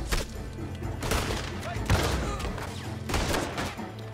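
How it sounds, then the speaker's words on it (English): Loud booming blasts from the shotgun in the Western game Red Dead Redemption 2 come roughly once a second, close and heavy, each one tailing into a dense crashing rumble. "Yep, that's a full blam shotgun."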